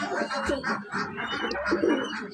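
Pigeons coo steadily in low throaty bursts while squabbling and pecking at each other up close, with a few scuffling sounds between calls.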